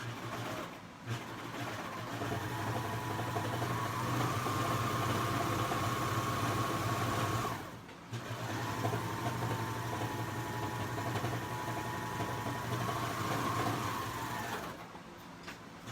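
A serger sewing machine stitches a pair of shorts in two long, steady whirring runs separated by a brief pause, loud and close, with no talking.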